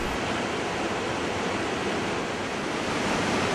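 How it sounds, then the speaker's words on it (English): The Iguazu waterfalls roar as water plunges over U-shaped cliffs into a deep gorge, a dense, unbroken wash of loud, steady noise with no voices. "The water plunges with a deafening roar over U-shaped cliffs into the 260 feet lower gorge."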